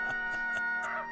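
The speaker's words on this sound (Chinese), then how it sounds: "那公鸡又叫了呢。" A rooster crows in an animated scene: one sustained, fairly loud crow of about a second with bright, pulsing harmonics and no talk over it.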